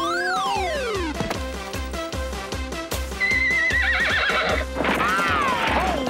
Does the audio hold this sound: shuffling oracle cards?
no